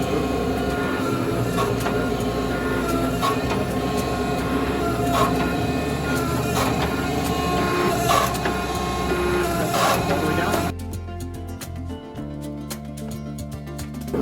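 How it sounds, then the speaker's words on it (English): A forge press squeezes a hot Damascus steel billet to set its forge welds, giving a loud, steady mechanical drone with regular thumping pulses that drops to a quieter, thinner hum for the last few seconds. "in just a minute we're going to pull it out and take it to the press and set our forge welds"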